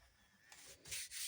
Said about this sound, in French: Ça, je vais le gommer tout de suite.